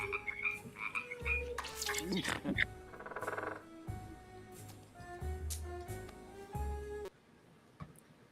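Frogs croak in repeated, rhythmic bursts, fairly close and clear, with pauses between calls and a quieter stretch near the end.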